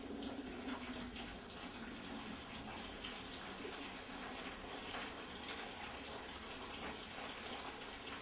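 Water is poured from a bucket, a faint continuous gushing splash that lasts throughout at low level.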